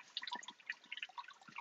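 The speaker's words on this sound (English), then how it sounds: "we've got all the water draining back down through into the reservoir" Water trickles and drips back into the reservoir of a compact Dutch bucket hydroponic system, a quiet, irregular patter of small splashes and droplets with no voices.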